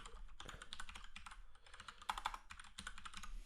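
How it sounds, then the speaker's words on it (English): Fingers tap steadily on a computer keyboard, entering an email address: quick, continuous clicking up close, with a brief pause midway and no talking. "So I'm going to type in my"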